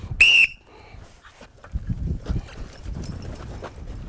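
A sharp, loud whistle blast is blown once as a signal during a shooting drill, followed by softer shuffling and background movement noise.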